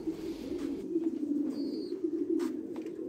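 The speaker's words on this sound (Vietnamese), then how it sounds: "anh em có thể theo dõi trực tiếp cái bồ câu giống ở trại mình luôn này" Thai Titan pigeons coo at a breeding farm, their low, throaty calls rolling continuously at close range, with a few faint higher chirps in the background.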